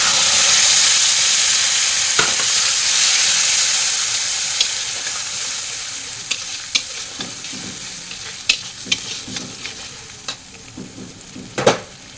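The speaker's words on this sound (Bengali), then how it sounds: "এবারে এখানে জিরে, ধনে আর হলুদ এটা আমি জল দিয়ে গুলিয়ে নিয়েছি, এবার এটা দিয়ে দিলাম।" A paste of cumin, coriander and turmeric mixed with water hits a hot pan and fries with a loud, steady sizzle that slowly fades, while scattered scraping stir clicks grow more frequent toward the end.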